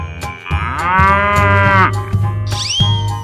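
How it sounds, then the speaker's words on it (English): A cow moos in one long, loud, drawn-out call that rises in pitch near the end, heard alone without talk. "Cow."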